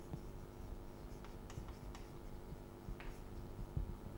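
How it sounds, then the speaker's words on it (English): Chalk or marker tapping and scraping on a classroom board during an engineering lecture on shock relations, a few faint scattered taps and strokes over steady room hum, no talking. "So maybe I should just write here."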